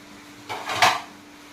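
Dishes and utensils such as plates and spoons being put away in a home kitchen, heard as a short close clatter that lasts about half a second and is sharpest at its end, with no talking.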